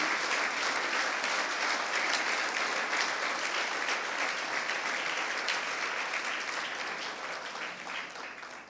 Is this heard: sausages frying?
no